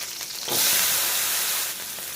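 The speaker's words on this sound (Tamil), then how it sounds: "இதை பாருங்கள் வதக்கியாச்சு நல்லா வதக்கியாச்சு இப்போ கொஞ்சம் நல்லெண்ணெய் ஊற்றிக்கலாம் இஞ்சி பூண்டு வெங்காயம்" Ginger, garlic and onion hit hot sesame oil in a pan, bursting into a loud, steady frying sizzle that swells after a quiet start and holds broadly hissing to the end, with no voices.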